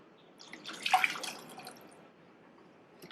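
A cup of water poured into a pan of potato and green pea gravy, a faint splashing trickle that builds to a brief peak and then tapers into soft dripping.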